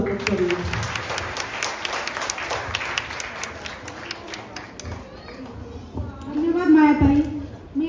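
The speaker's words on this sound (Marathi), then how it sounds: "आपण पुन्हा त्यांचं टाळ्या वाजवून जोरात स्वागत करूया" An audience applauds to welcome a guest at a Women's Day gathering, a dense burst of clapping near the start that continues under a voice speaking, with a louder swell of clapping and voice near the end.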